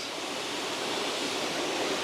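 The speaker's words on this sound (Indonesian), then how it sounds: "sekarang kita udah sampai di air terjun Pria Laut" Steady, full roar of the Pria Laut waterfall in Lampung, a continuous rushing wash of falling water heard close and loud with no break.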